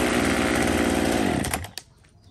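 A Komatsu G3005 chainsaw runs loud and close with a steady buzzing drone, then cuts off and winds down, followed by a sharp click and quiet.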